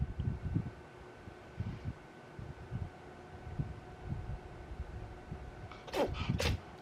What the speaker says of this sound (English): Cat sneezing.